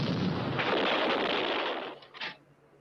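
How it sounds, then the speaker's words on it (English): A British infantry anti-tank gun fires, one loud broad blast that roars for about two seconds before a brief second crack and a fading tail. "At closer range, the infantry anti-tank gun,"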